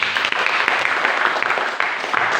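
A church congregation claps together during a sermon in Indonesia, steady dense applause filling the space at moderate loudness, with a faint voice underneath.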